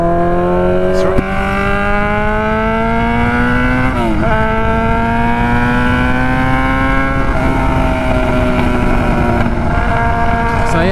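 A Yamaha R6 motorcycle engine idles loud and near in a steady drone, with brief blips of throttle now and then.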